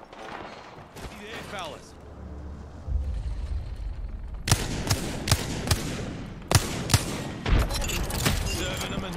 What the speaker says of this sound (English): Taking fire. They're shooting at me!